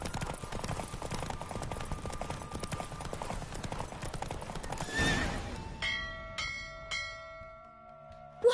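A horse gallops during a horse race in The Witcher 3: Wild Hunt on PS5, with rapid continuous hoofbeats and loud whinnies, then stops as a rising whoosh gives way to game bells and chimes.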